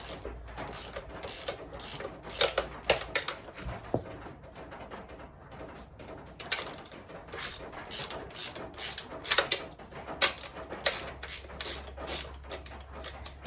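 A ratchet loosens engine bolts on a Kawasaki KX motor, with rapid clicking bursts repeating in uneven runs, close and fairly loud, separated by brief pauses and clanks.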